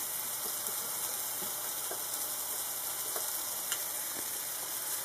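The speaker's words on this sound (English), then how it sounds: "While your bananas are frying" Bananas sizzle steadily in a hot pan, a constant crackling hiss with occasional small pops, close and even throughout.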